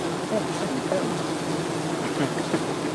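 Honey bees buzz in a dense, steady hum around a hive during a mite treatment, close and continuous, with faint voices underneath.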